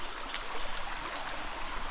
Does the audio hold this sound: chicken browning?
no